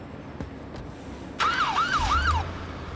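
Ambulance siren in a paramedic simulator video game switches on suddenly and wails in a loud rising-and-falling cycle several times, with a low engine rumble joining underneath.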